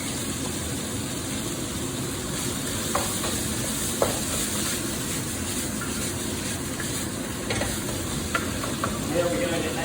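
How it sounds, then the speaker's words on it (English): Eggplant and tomatoes for a Thai red chicken curry stir-fry in a pan, giving a steady close sizzle with occasional scraping stirs and small clinks throughout. "Stir fry this up a little."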